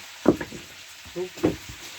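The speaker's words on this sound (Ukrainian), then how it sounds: "сковорода вже шкварчить, запах пішов" Pork sizzles quietly in a frying pan, with intermittent scraping and stirring clatter and no speech.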